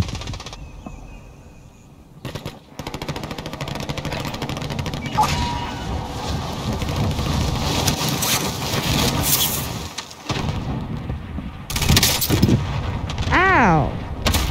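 Gunfire crackles through a Call of Duty Warzone battle royale match in repeated bursts and shots, dense and close, with gaps, muffled stretches and a person talking over the fighting.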